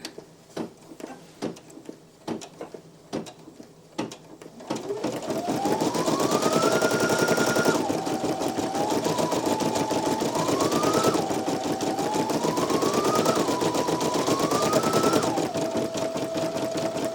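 A Brother PE-900 embroidery machine stitches nearby. A few clicks come first, then a loud, fast, continuous mechanical whir whose pitch rises and drops as the carriage moves, running without pause.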